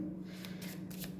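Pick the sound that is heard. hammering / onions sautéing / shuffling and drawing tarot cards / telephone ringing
shuffling and drawing tarot cards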